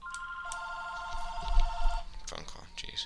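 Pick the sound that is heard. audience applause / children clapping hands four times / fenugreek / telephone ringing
telephone ringing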